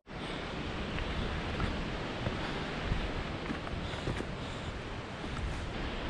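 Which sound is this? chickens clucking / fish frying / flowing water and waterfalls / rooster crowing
flowing water and waterfalls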